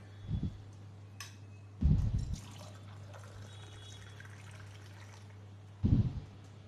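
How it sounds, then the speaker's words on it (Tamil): Water poured into a cooking pot while making a lunch box dish, three short splashing pours separated by pauses over a steady low hum. "தேவையான அளவுக்கு தண்ணி ஆட் பண்ணிக்கலாம்."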